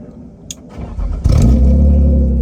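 A BMW E36 drift car engine cranks and catches about a second in, then settles into a loud, steady, close idle with a deep low rumble.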